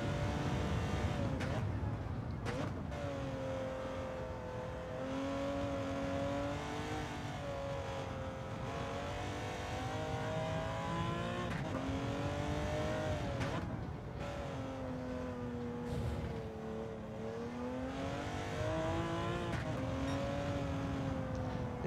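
Porsche 917 racing around Spa in Gran Turismo 7, its engine droning and rising and falling through gears over about twenty seconds, with tire scrubbing under sliding turns and a voice talking over it.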